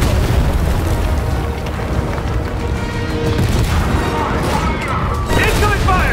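Explosions and incoming fire from the Fortnite Collision live event video game: dense, continuous booming blasts and rumbling impacts that fill the mix, with voices talking over the battle.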